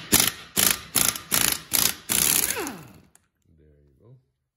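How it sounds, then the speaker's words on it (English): An impact gun is taking the differential nut off a 1974 Triumph TR6, giving five sharp, rapid hammering bursts and then a longer run, all loud and close, before it cuts out into near silence with a brief faint sound at the end. "the only way to remove this nut is with the impact gun"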